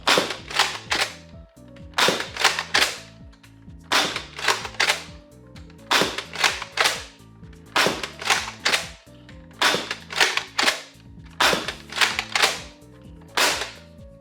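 A Dart Zone Adventure Force Conquest Pro dart blaster fires rapid bursts of sharp, loud clacking shots in repeated clusters, with short pauses between volleys.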